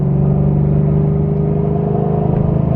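Loud, steady exhaust rumble from a fifth-generation Chevrolet Camaro with aftermarket headers idling and gently revving nearby, deep and throaty, with no voices over it.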